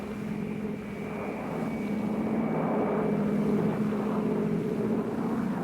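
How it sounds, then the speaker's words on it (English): Roar of massed helicopters sweeping overhead during a large air-mobile assault over a Vietnam War province, a steady, loud droning engine rumble that swells slightly midway and holds without a break. "In one of the largest air-mobile assaults ever, 240 helicopters swept over Thanh Ninh province."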